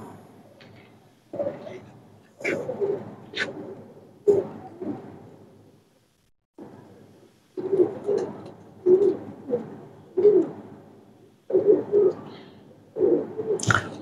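Saharanpuri teddy pigeons cooing close by in a series of soft, rounded coos grouped in bursts with short pauses between, a brief gap of quiet partway through.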